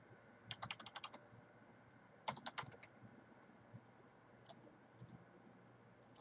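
Quick bursts of typing on a computer keyboard while a deposit service item is set up in QuickBooks Online: two clusters of close keystrokes, then scattered single clicks, soft and near, with no talk.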